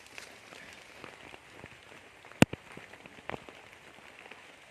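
Rain falls at night in a steady, soft patter on surfaces, with scattered louder drops and a few sharp knocks nearby. No one speaks.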